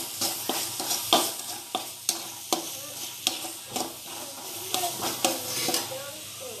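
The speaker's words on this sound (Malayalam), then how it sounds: "ഇതിലേക്ക് ഇഞ്ചി, വെളുത്തുള്ളി, പച്ചമുളക് ചതച്ച് ചേർത്ത് കൊടുക്കാം." Sliced onion with crushed ginger, garlic and green chilli sizzling in a pan while being stirred, with repeated scraping strokes of the spoon at an irregular rhythm over a steady close frying hiss.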